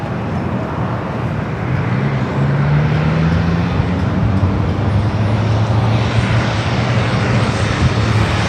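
An arriving airliner lands at San Diego airport, a continuous loud engine rumble carrying a low droning tone that shifts in pitch as the plane passes, with road traffic faintly underneath.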